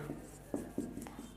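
Chalk or marker writing on a board during a physics lecture, a few scratchy strokes with sharp taps, close and moderately quiet over room noise.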